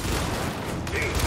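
Rapid gunfire from the video game Gears 5 crackles in a dense, loud burst of shots and booms, layered with game sound effects and some voice activity.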